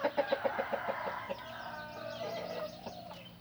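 Chickens on a farm cluck in a quick rhythmic run of close, moderately loud calls, followed by softer overlapping clucks and squawks.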